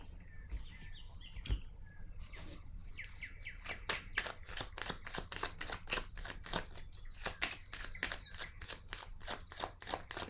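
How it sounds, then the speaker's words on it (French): Tarot cards are handled on a table in a quiet room, a quick run of soft, crisp clicks and snaps that keeps going for several seconds. "je vais déposer une autre carte ici"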